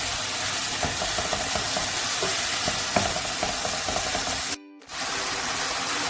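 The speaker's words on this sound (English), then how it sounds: "Stir everything to combine." Minced ground beef being stirred in a pan, with a steady close sizzle and soft scraping strokes, a sharp tap near the middle and a brief drop to near silence toward the end.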